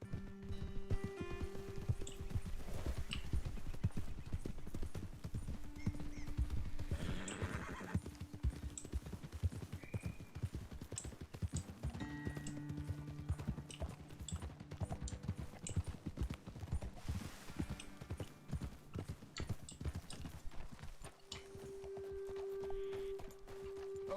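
Steady, rapid clip-clop of horse hooves in the video game Red Dead Redemption 2 continues throughout, with occasional whinnies and a soft musical drone underneath.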